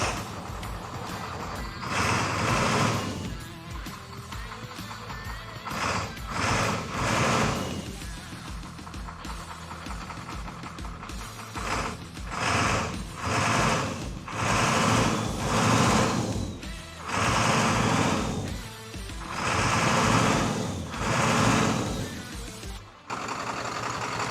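Diesel engine revved in bursts with a mechanical rattle, rising and falling several times in a repeated rhythm, close and fairly loud; the idle sounds rough and stumbles a little when the throttle is let off.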